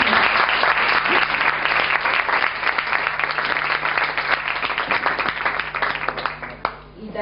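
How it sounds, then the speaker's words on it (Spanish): An audience at a talk on changing limiting beliefs breaks into sustained applause, a dense steady clapping that fades slightly at the end, with some voices mixed in. "Lo que quiero pedir ahora es un aplauso para todos nosotros"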